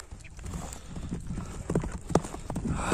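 Horse hooves clip-clop steadily over ground at a Kyrgyz horse event, a close, rhythmic series of hoof strikes with a brief whinny-like accent near the end and faint crowd noise behind.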